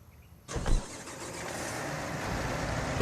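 A tractor engine in a farming simulation game cranks and catches with a sharp rise, then settles into a steady, rumbling idle close by, with no talking over it.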